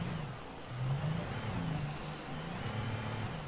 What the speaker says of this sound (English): Let's just use this car now and carry on.